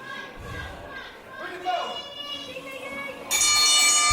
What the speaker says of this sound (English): call for the bell and there it goes